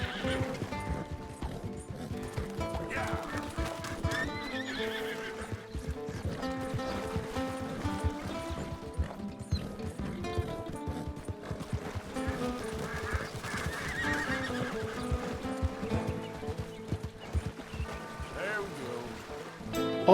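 A horse gallops and neighs in the Red Dead Redemption 2 video game, with steady, loud hoofbeats and recurring whinnies running through the whole stretch.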